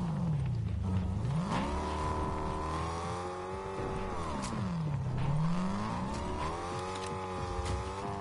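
Car engine in the Fortnite video game revving and surging in smooth rising and falling sweeps, loud and steady throughout with no talk over it.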